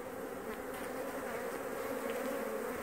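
Honeybees buzz steadily around an open hive during swarm prevention, a dense, continuous near drone with no pauses.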